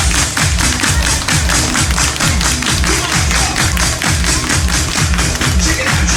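A crowd aboard a Disney cruise ship clapping hands in steady rhythm, regular sharp claps repeating about twice a second over background music and noise.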